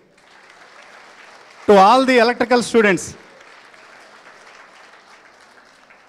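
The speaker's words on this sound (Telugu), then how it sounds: "ప్రవీణ్కి గట్టిగా చప్పట్లు" Students at an engineering college event, CR Reddy College of Engineering in Eluru, applaud as an electrical student receives a memento; soft continuous clapping runs throughout while someone speaks loudly for a moment in the middle.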